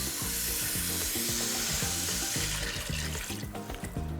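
Broccoli and kohlrabi sweat in a hot pan, then water is added, bringing a loud burst of sizzling and hissing with bubbling and a rhythmic underlying clatter, the sizzle easing toward the end.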